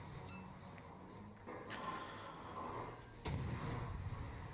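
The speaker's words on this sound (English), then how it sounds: "I'm just going to start slinging shots into him." Battleship guns fire in World of Warships ranked battle, with muffled distant booms over a low rumbling background and a heavier, louder salvo blast near the end.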